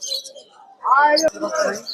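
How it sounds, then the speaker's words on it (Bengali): Caged birds at a weekly bird market chirp and tweet in short bright bursts close by, partly under someone speaking. "চলে আসলাম মেরাদেব পাখির হাট"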